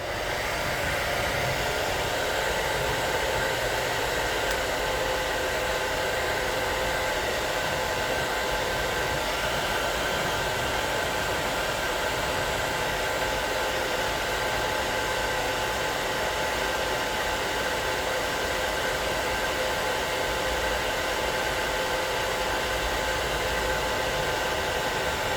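A hair dryer blows steadily on a freshly painted wood carving of a small barrel, a constant loud broadband whoosh with a faint motor hum running unbroken throughout, no voices.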